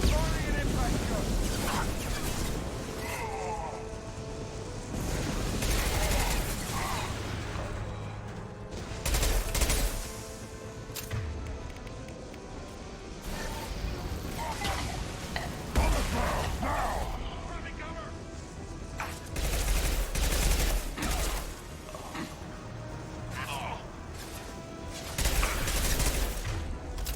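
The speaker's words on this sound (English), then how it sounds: "Firing an impact gun!" Sustained bursts of gunfire and mechanical weapon blasts in the video game Mass Effect 2, an impact gun firing repeatedly amid loud combat noise, with voices talking over the fight throughout.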